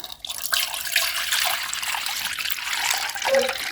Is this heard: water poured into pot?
yes